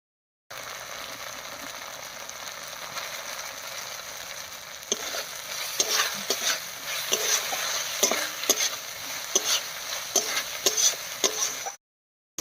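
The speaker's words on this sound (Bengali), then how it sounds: "সব কিছু দিয়ে মশলাটা খুব ভালো করে কষিয়ে নিয়েছি।" Spice paste for a prawn malai curry stir-fried in oil after salt and turmeric go in, a steady sizzle broken from midway by regular scraping strokes of a spoon against the pan, close and fairly loud.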